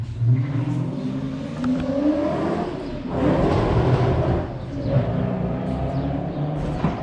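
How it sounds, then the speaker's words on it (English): A Ford Mustang roars past at a car meet with loud engine revving that swells, eases, then surges again, close by with no voices. "besides that Mustang freaking flying by through here"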